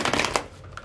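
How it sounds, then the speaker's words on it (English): Tarot cards are shuffled in a brief flurry of quick papery riffles and slaps, close and crisp, lasting under a second. "let's shuffle"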